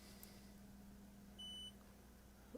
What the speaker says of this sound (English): don't you dare beep at me like that